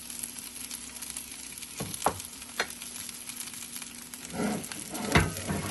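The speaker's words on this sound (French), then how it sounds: "Je prends mes oignons, mon ail et on fait revenir tranquillement." Onions and garlic frying gently in oil in a pot, a soft steady sizzle with a few clicks and stirring knocks from a wooden spoon.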